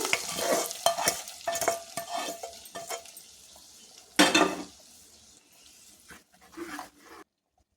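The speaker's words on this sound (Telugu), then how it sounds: "ఇప్పుడు మనం తాలింపు వేసేసుకుందాం దీంట్లోకి" Tempering poured into boiling tamarind-leaf dal, with a loud sizzling burst, spoon clinks and stirring against the pot, then a sharp hiss midway fading to quiet before ending.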